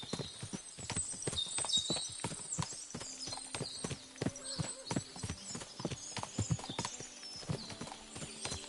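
Many horses' hooves clip-clop on hard ground in a medieval video game, a dense, uneven clatter of close and distant steps with occasional whinnies and soft voices in the background.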